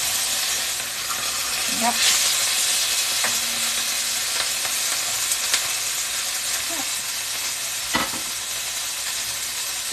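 Raw ground meat for chili sizzles and browns in a pan with a steady bright hiss, occasional stirring scrapes from a wooden spoon, and a short spoken word.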